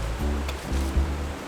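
A small waterfall on a slime-covered, stair-stepped trout stream in the Hudson Valley pours in a steady, close rush of water under a low rumble, with no talk.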